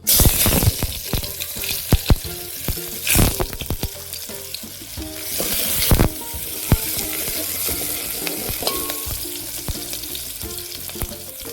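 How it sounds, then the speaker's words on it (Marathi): Chopped onion dropped into hot oil for a spicy mutton dish, sizzling loudly and continuously up close, broken by sharp clatters and scrapes of a utensil against the pan. "तेल गरम झाले कांदा टाकून घेऊ"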